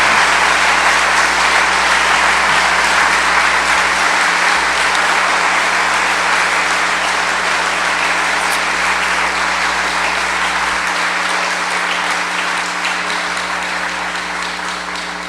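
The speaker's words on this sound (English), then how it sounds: "to thank you for the applause" A lecture audience at a fan festival bursts into sustained, loud applause for an author, dense clapping that fills the hall and slowly tapers at the end, with no talking over it.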